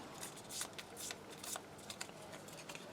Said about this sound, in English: You just take the ally cards here, all mixed up, you kind of shuffle them.